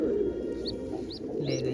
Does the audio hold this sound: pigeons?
yes